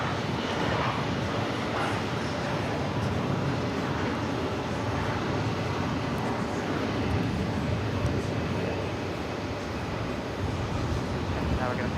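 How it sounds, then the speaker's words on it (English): An Aeromexico jet on its takeoff run from runway 31 left at JFK gives a steady, fairly distant engine rumble that holds evenly throughout, with talk over it. "Aeromexico flight 409 headed back to Mexico City,"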